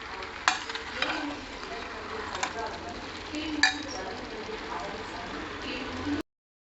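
Spice powder is stirred into homemade lemon pickle, giving soft scraping and stirring with a few sharp clinks of a spoon against the container, close up, with a voice faintly present in the background.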